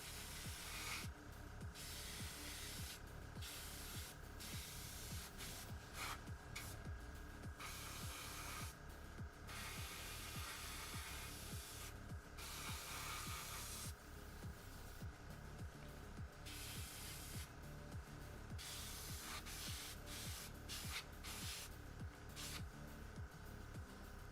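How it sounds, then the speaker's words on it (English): An airbrush sprays paint onto a scale model in a series of short, quiet hissing bursts separated by brief pauses, with a faint constant background hum throughout. "This airbrush is exceeding expectations."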